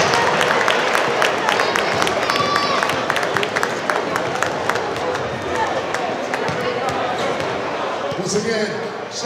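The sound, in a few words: audience applause at a basketball classic ceremony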